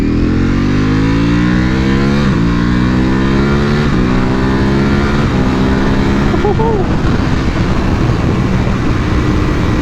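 Ducati Panigale V4R motorcycle ridden in race mode: loud, close engine revving up through repeated rising sweeps with quick gear shifts, a steady roaring drone heavy with wind rush throughout.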